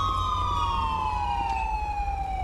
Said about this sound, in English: Let's kill some of these sirens.